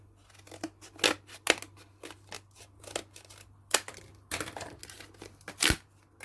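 Scissors snip through craft paste packaging, a series of sharp cuts and crinkling tears in irregular bursts, close and fairly quiet with no talking.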